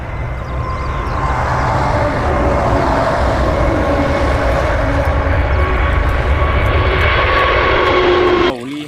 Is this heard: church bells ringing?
no